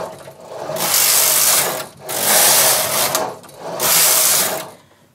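A knitting machine carriage (Singer, Studio, Silver Reed or Knitmaster type) doing tubular knitting makes three loud, close whirring passes with short pauses between.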